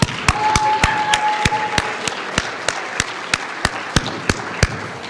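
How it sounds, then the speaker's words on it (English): Audience at a chamber of commerce awards ceremony applauding, a steady wash of clapping with sharp, evenly spaced loud claps standing out near the microphone throughout. "Can we give Bruce a big round of applause"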